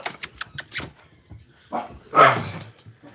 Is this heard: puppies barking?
yes